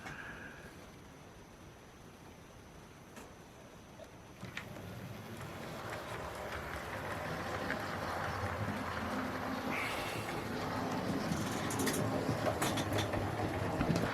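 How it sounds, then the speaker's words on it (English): A small model locomotive runs along its track, a steady mechanical whir and rattle that grows louder and busier partway through, with faint clicks. "this is one of my best running locomotives that I have in my collection"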